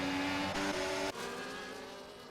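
F1 race cars from the F1 24 video game scream down the Hangar Straight at the British Grand Prix, their high engine notes holding steady before one shifts abruptly. The sound is fairly quiet and continuous.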